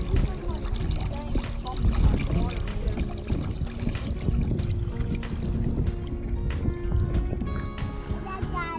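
A kayak paddled on the Connecticut River, with continuous splashing and dripping water from the paddle strokes close by and a busy outdoor wash of sound throughout.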